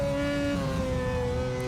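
A Formula race car in a racing sim game, driven at the British Grand Prix, holds a loud, steady engine tone whose pitch slides gradually down as the gears come down.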